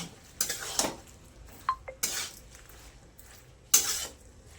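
A spoon scrapes and clinks against a pan while stirring bottle gourd and shrimp curry, with three or four distinct scraping strokes and small metallic taps between them, close by and with no talking.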